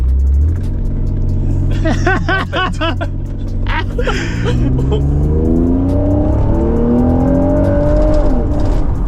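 A car engine revs hard and roars continuously during a burnout, with rapid throttle blips early on, then a sustained loud rising drone close by.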